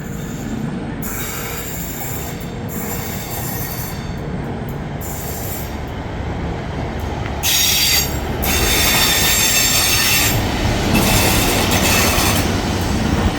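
A train rolls through Stockport Station with its wheels squealing: a loud, steady rail rumble runs throughout, under a persistent high metallic screech that grows stronger toward the end.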